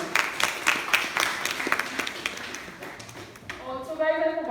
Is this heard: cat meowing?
no